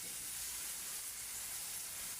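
Tomatoes sautéing in a pan in a Chennai-style home kitchen, giving off a faint, steady sizzling hiss with no talk.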